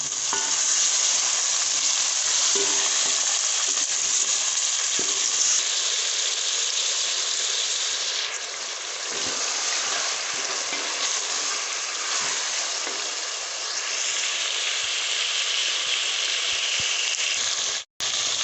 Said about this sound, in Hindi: अब इसमें हम गोश्त को डालेंगे और इसको अच्छी तरह भून लेंगे।